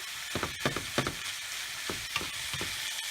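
Extra lean ground beef frying for Sicilian arancini, a constant close sizzle broken by several scraping stirs and tosses in the pan, no speech.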